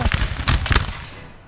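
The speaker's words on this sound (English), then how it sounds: "But that flank fire, very deadly, very accurate." A musket volley of flank fire in Empire: Total War, set in a colonial 1600 AD battle with English forces: a quick ragged string of close, sharp shots, then a fading echo.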